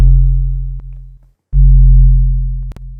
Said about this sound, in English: it's just basically like a sine wave, which just drops with every note, like down